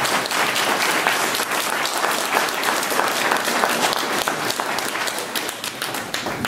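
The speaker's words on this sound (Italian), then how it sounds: "Qui va un nostro applauso." Applause fills a public political gathering in Italy, dense steady clapping from an audience that holds for several seconds without letting up.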